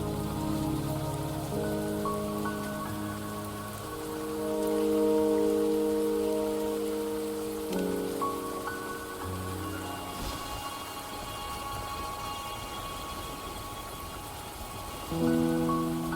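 Steady rain patters across the whole stretch in Wuthering Waves, a constant wet hiss beneath layered, sustained game music, with no voices.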